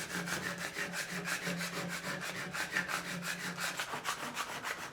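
Old plaster being scraped off an apartment wall, a rapid rhythmic series of gritty rasping strokes, close and moderately loud, with no talk.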